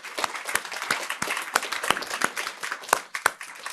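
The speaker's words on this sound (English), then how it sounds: "let's give them a big round of applause" A small crowd at an outdoor press briefing about a public housing redevelopment claps: sparse, uneven individual claps pop out at moderate loudness over a quiet background, with no cheering.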